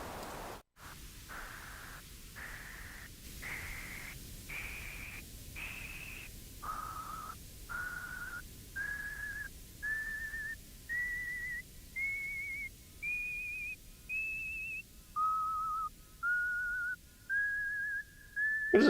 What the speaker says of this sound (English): take white noise, apply a bandpass filter, and key track it, and then increase the resonance and add a little bit of vibrato to the filter